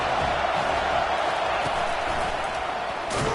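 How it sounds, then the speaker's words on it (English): Steady roar of a large stadium crowd in a college football video game, broad and continuous, with a brief sharp thump near the end. "This crowd bringing the energy and noise early."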